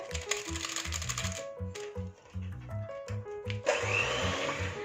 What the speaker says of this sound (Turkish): şimdi mikserle 1-2 dakika kadar e, krem haline gelinceye kadar çırpalım